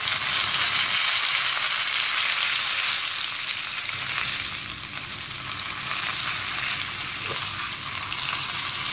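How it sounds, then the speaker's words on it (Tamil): Mustard seeds, cumin, asafoetida and curry leaves splutter in hot oil as a tempering for instant mango pickle, giving a continuous close crackling sizzle that stays steady throughout, with no voices. "கடுகு நல்லா பொரிஞ்சிருச்சு"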